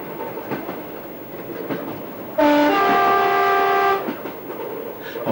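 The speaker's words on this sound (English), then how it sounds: "this is train coming up up through Worsbrough Bridge" A train climbing through Worsbrough Bridge sounds a loud, sustained multi-tone horn for about a second and a half, rising sharply above a low background rumble of rail noise.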